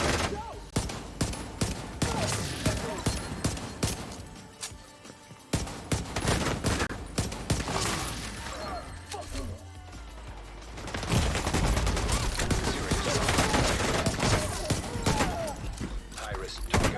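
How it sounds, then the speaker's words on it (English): Enemy gunfire in The Division 2: dense, loud bursts of automatic rifle fire and rapid shots crackling continuously, with a brief lull in the middle before heavy firing resumes. "They're not even going to cover, they're just shooting."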